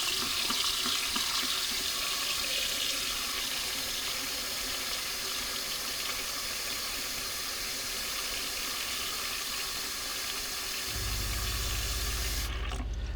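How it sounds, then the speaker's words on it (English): Water gushes steadily from the kitchen sink tap in a converted 2014 Promaster 2500 camper van, a continuous close hiss. Near the end, a low electric water pump hum kicks in beneath the flow. "You'll know whenever the water pump is turned on."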